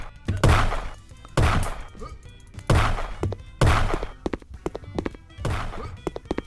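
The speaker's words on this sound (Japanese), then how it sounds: "なんか撃ってる" Heavy thumping impacts from shooting in the zoo-set video game Zooicide, four loud booming hits about a second apart, each with a short rumbling tail, followed by a quieter stretch of small clicks and taps.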